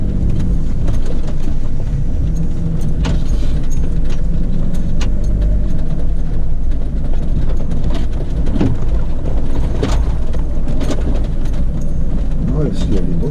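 A car engine revs hard as the car drives a slippery track in January, a loud, continuous roar with rattling and clunking mechanical noises throughout.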